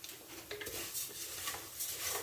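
Stirring payasam in a pot for a Vishu feast, a soft continuous scraping and swishing of a spoon against the pot, close and fairly quiet, with no talking.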